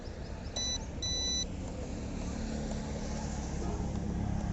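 Motors of a low-budget 998 toy drone whir steadily after switch-on, accompanied by two short high electronic beeps near the start, with a constant buzzing hum continuing throughout and no voices.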